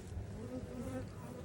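Honeybees buzz at an open hive, a soft, continuous hum heard up close in a quiet, brief moment.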